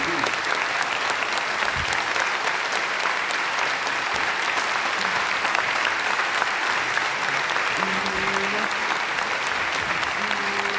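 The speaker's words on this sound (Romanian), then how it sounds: "Își merită aplauzele din plin." Sustained, loud applause from a concert audience for a psaltic choir performing Byzantine chant, steady clapping throughout with no talk over it.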